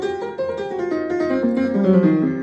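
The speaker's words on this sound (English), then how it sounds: "The minor blues scale sounds like this" A piano plays a short minor blues scale run of single notes climbing and settling, clear and close, with no voices.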